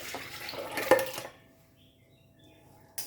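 Water poured into a pot while cooking Indian dal tadka at home, a brief close splashing gush that stops abruptly, then near silence before a short clatter at the end.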